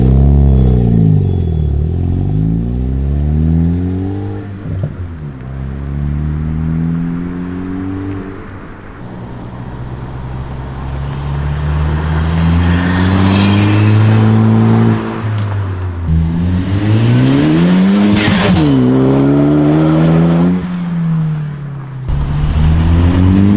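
Ford Focus ST fitted with an aftermarket catback exhaust, heard from outside the car: loud, close revving with repeated rises and falls in pitch, building to a sharp rev near the end with throaty rasp.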